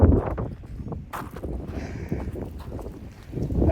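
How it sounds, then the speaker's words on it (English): Strong gusting wind at an outdoor shooting range on a windy day in Oklahoma buffets the microphone, a close, uneven rumble that rises and falls over a few seconds with no talking. "Well, very windy today."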